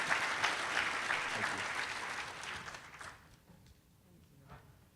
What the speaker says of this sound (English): if you don't mind just giving a round of applause for those people who have made it happen